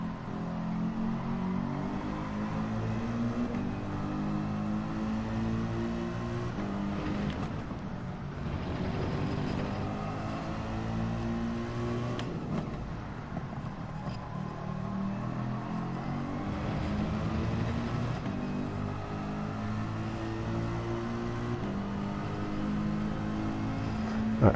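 A race car engine in the Gran Turismo 7 video game drones steadily for the whole stretch, with layered engine harmonics rising and falling through gear changes at a constant, fairly loud level.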